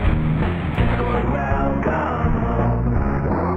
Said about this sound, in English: at the cost of making a nasty, weird sort of grind